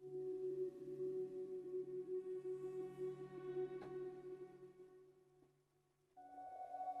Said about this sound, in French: Nous avons cette chose qui s'appelle Arcis, qui permet de faire des textures, je vous montre.